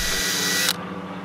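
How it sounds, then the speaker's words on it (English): A power drill pre-drills a hole for a hinge screw on a piano bench being made into a side table; a short, loud whirring burst cuts off abruptly, leaving a faint hum. "Mark the hole and pre-drill it."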